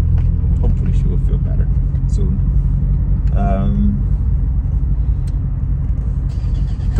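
A 2015 Chevrolet Camaro Z/28 driven slowly around a neighborhood, its engine a steady low rumble heard from inside the car throughout, with a brief brighter tone partway through and a person talking over it.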